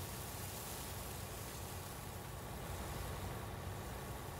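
A tractor engine runs continuously in the farming video game Farming Simulator 19, a steady, dense rumbling drone with no pauses and no talking.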